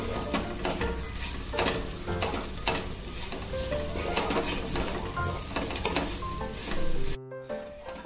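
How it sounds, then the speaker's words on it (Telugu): Grated coconut sizzles steadily in a hot pan for coconut rice, with repeated scraping and stirring strokes over a constant crackling fry. A brief dip near the end, no voices. "కొబ్బరి ఎక్కువ వేగితే ఫ్లేవర్ మారిపోతుంది జస్ట్ టూ మినిట్స్ ఫ్రై చేసుకుంటే"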